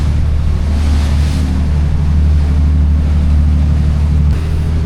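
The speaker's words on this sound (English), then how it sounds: "Boat's running good now." A boat engine, recently repaired after supercharger belt trouble, runs steadily far out on the open Gulf, a loud continuous low drone mixed with rushing wind and water noise, with no voices.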